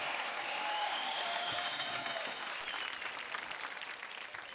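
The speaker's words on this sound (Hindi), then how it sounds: "वो जोरदार ताली हो जाए वैशाली के लिए।" An audience in a televised dance reality show claps loudly and steadily, with crowd noise blending in as the applause carries on.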